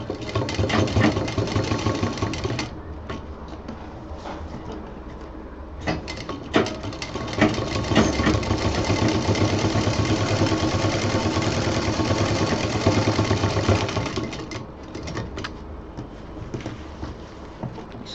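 A sewing machine stitches a baby diaper bag seam, running in long, steady motor bursts with brief pauses, close and fairly loud with no talk.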